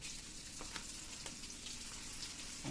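Ginger and garlic frying in a pan of lightly spiced meat, a faint, continuous sizzle with a few soft stirring scrapes close by.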